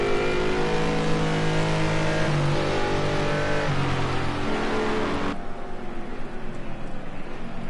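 GT race cars at Snetterton circuit in a British GT grand final, with engines droning loud and steady as they pass through the bomb hole, shifting in pitch as gears change, then dropping to a lower engine tone for the final seconds.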